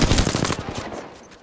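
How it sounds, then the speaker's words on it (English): Rapid automatic gunfire in the shooter game Apex Legends, a close, loud burst of quick shots lasting about a second, then fading. "I'm getting shot!"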